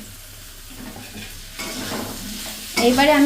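Slit green chilies dropped into a pan of frying mushroom curry, with a steady low sizzle that swells louder near the end as they hit the hot oil and are stirred, under a brief spoken phrase.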